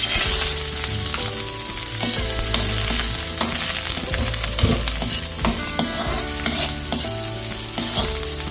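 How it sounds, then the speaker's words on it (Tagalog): Garlic, onion and a little ginger frying in oil in a pan give a loud, dense, continuous sizzle, with steady stirring and scraping throughout. "Nakapagsalang na po tayo ng kawali na may mantika. Ilagay na po natin ang ating bawang sibuyas at konting luya."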